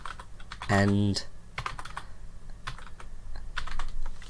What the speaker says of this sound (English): So I can type in WP for the value